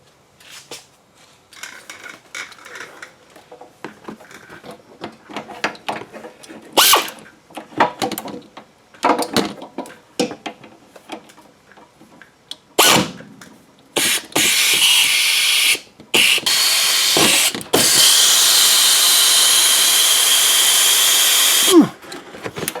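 A 1997 Audi A4 Quattro gives off irregular clicks and rattles from its front end, close and fairly sharp, followed by stretches of louder continuous mechanical whirring broken by brief gaps.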